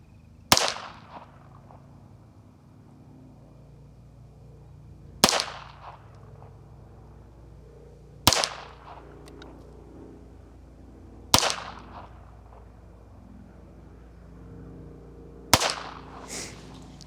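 Five sharp rifle shots fired with Lapua ammunition at an outdoor shooting range, each a loud single crack with a short decaying echo, spaced roughly three to four seconds apart over quiet wind.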